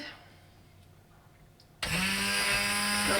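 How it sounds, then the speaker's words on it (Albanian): A kitchen blender switches on after a quiet stretch and purées homemade soup with a loud, steady, high whir that continues to the end. "Do ta bojna me blender"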